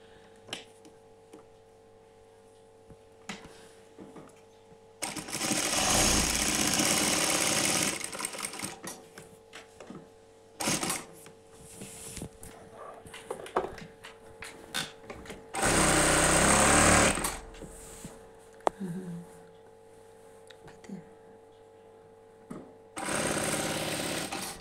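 A sewing machine stitches a cotton housecoat in several loud, buzzing runs of a few seconds each. Quieter pauses and handling noises fall between the bursts.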